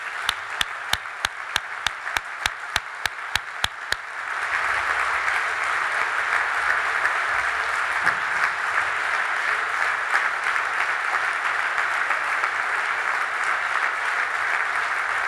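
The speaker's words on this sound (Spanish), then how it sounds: "yo quiero pediros un caluroso y fuerte aplauso para todos ellos" A party congress audience bursts into sustained, dense applause, preceded by a few sharp isolated claps, then a full crowd ovation that holds loud and even to the end.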